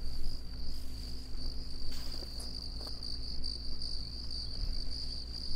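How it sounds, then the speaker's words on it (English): Steady high-pitched cricket chirping in the African setting of the video game theHunter: Call of the Wild fills the air, constant and fairly close, over a quiet low ambient hum. "And you hear the crickets and the ambient sounds."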